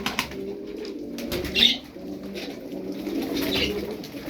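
Pigeons coo softly in repeated low, throaty calls, with occasional wing flutters, fairly faint and without talk.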